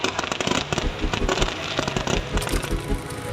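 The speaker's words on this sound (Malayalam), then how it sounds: "ലാസ്റ്റ് എല്ലാം കൂടി കഴിഞ്ഞപ്പോൾ നല്ല അടിപൊളി പടക്കമൊക്കെ പൊട്ടിച്ച്" Firecrackers burst at a village festival (vela) in Kerala, a dense, loud run of rapid cracks and pops that overlap in quick succession with no voices.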